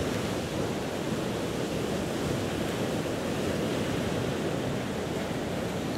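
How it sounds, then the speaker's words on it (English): Ocean waves break on a beach in a steady, unbroken wash of surf, fairly soft and even, with no voices or other sounds. "the sound of the crashing waves against the beach in the distance"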